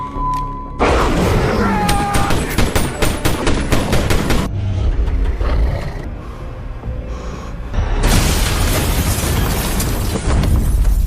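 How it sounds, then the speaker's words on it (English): Gunfire in a werewolf movie scene, a loud close rapid series of shots and booming impacts mixed with dramatic movie sound, continuing in bursts throughout. "He starts shooting at a werewolf that wasn't even bothering him."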